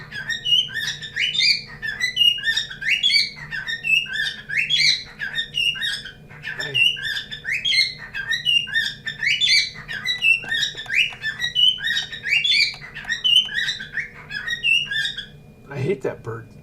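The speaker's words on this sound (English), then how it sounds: "I hate that bird." A bird nearby squawks and chirps continuously in loud, repeated whistling bursts, with a brief low thump near the end.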